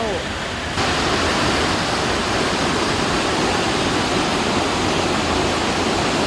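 A waterfall, Chae Son Waterfall in Lampang, Thailand, roars in a dense, continuous rush of water falling down tiered steps, loud and close, steady from start to finish.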